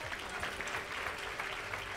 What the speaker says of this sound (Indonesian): Tepuk tangan paling meriah buat Tuhan.